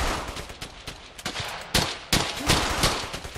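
Rapid bursts of assault rifle fire from a German StG in a World War II battle in Brothers in Arms: Hell's Highway, sharp cracks arriving in quick uneven volleys over a constant battlefield din.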